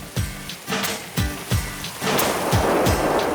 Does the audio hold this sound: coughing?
no